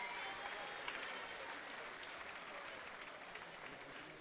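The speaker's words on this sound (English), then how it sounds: "a massive round of applause for both of these young men" A crowd at an amateur boxing event applauds both fighters after five hard-fought rounds, steady clapping heard from a distance and fairly faint, with no talking over it.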